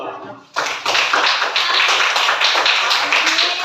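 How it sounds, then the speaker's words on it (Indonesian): A classroom of students claps for a group after its turn in a quiz game, dense applause that starts abruptly and holds steady and loud, with no talk over it. "Tepuk tangan dulu untuk kelompok 2."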